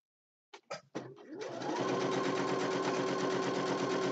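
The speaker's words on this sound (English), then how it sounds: "I'm going to do my top stitching across here" A sewing machine top-stitches across a pocket, starting with a few short bursts and then settling into a steady, loud, continuous run of close stitching that carries to the end.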